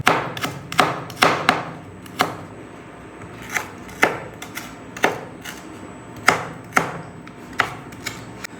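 Onions being finely chopped with a knife on a board, a close series of sharp, irregular taps, some in quick clusters and others spaced out, with no talking.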